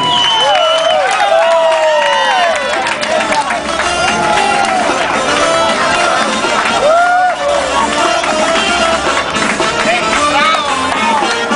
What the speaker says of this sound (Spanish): Aplauso para la reina del 2011, que ha sido coronada del 2010